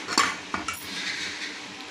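A pressure cooker that has just cooked mixed dal khichdi is opened with a few sharp metallic clanks of the lid, then a soft, faint hiss fades away.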